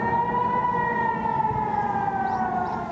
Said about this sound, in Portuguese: Mesmo assim, as sirenes de emergência dispararam.